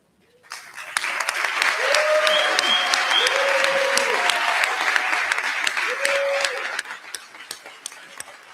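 Audience applause at a graduate program hooding ceremony in San Rafael, honoring the faculty as they stand: dense, sustained clapping that swells quickly, holds steady and tapers off, with a few voices and whoops mixed in.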